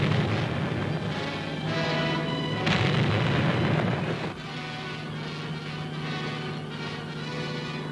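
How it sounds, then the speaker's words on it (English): Aerial bombs burst around the obsolete battleships New Jersey and Virginia off the Virginia Capes, heard as a continuous roaring rumble with a heavier blast partway through, presented as old film sound with no speech. "The Virginia succumbs to the aerial bombardment."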